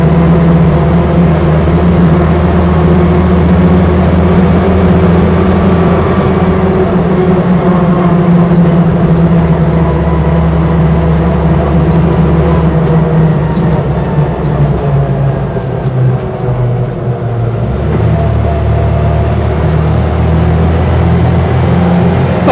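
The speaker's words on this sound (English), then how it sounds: "at full throttle here, it picks up and goes very well indeed" A Land Rover Lightweight engine pulls hard at full throttle, a loud, steady drone with a rising note that holds close and continuous for the whole stretch, with no talking over it.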